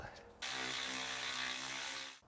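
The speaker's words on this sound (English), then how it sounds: "Now we want to undo our brake hose bolt here and our wheel speed sensor over here." A 12 mm bolt on a Subaru Legacy brake hose and wheel speed sensor being loosened, one short close burst of whirring ratchet-tool clicks lasting under two seconds.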